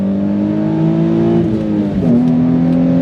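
A Nissan 350Z accelerating hard out of a corner, heard close from inside the car, a loud, steady engine drone whose pitch climbs, dips briefly at a gear change, then pulls on.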